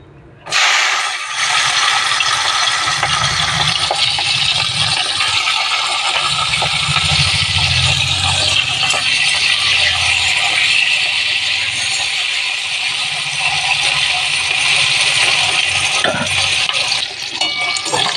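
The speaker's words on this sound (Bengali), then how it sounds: "এবারে সিমগুলো ভেজে নেবো" Flat beans (shim) fry in oil with a loud, dense crackle that starts abruptly and then roars steadily, with a slight rattle of the pan, until it dips right at the end.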